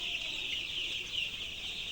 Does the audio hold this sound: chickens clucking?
yes